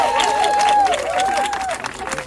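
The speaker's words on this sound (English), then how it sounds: "Let's give both of them an amazing applause." Audience applause with cheering and a whistle at a civil rights voting rally, a dense, loud wash of clapping that holds steady for about two seconds before thinning slightly.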